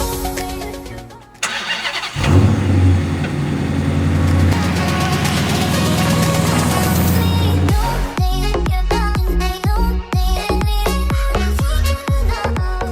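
Wrecked 2016 Dodge Challenger R/T with a manual gearbox being started and pulled in, a loud engine cranking and catching, followed by a sustained rumbling idle and revving, then a rhythmic mechanical clatter.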